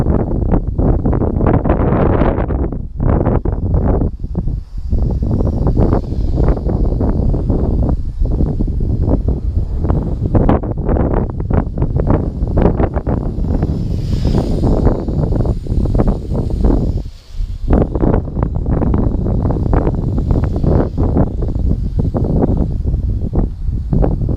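Strong gusting wind buffets an outdoor microphone almost continuously, a loud low roar with brief dips, while a Huiying Toys X6058 toy drone flies and wobbles into the wind.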